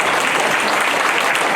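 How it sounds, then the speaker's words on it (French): At an investiture ceremony, an audience bursts into dense, close applause that stays loud and even throughout the short stretch. "On l'applaudit, s'il vous plaît."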